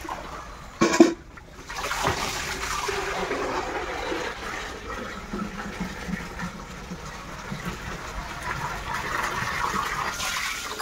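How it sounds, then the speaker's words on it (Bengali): Water running steadily as it is drawn and filled to store for the whole day's household use, a continuous close rushing with a brief louder splash near the start and no talking. "সেই কারণে একবারে সারাদিনের জলটা তুলে নিচ্ছি"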